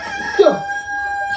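A rooster gives a short crow or squawk, close and fairly loud, over a steady background hum.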